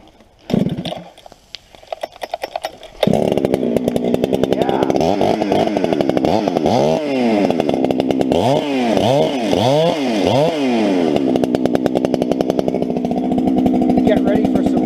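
A freshly sharpened chainsaw starts and then bucks 14-foot logs, loud and close, revving up and bogging down repeatedly as the chain bites into the wood.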